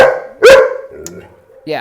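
An aggressive German Shepherd barks close and loud during a protection-behavior training session, with one sharp bark, a softer sound after it and another bark starting at the end.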